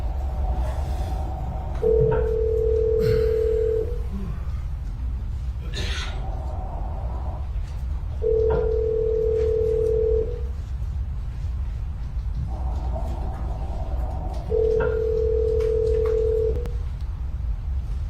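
A telephone call rings through to voicemail: three long ringback tones sound at even intervals, a few seconds apart, over a steady low background hum.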